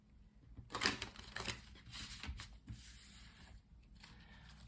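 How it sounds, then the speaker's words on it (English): Tarot cards being shuffled by hand, with a run of quick papery riffles and rubbing strokes, close and fairly quiet, no talking. "continue by doing some shuffling so we can pull 7 tarot cards"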